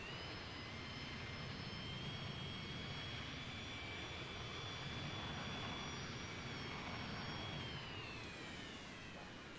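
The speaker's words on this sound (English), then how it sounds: "those reverse thrusters really helped me stop" Tupolev Tu-154 jet in Microsoft Flight Simulator 2020 rolling out after landing on a snowy runway with reverse thrust, a loud continuous roar of jet engines and a high whine that eases toward the end.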